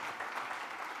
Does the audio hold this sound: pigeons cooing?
no